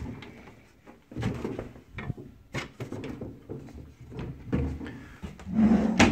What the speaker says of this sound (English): Drawer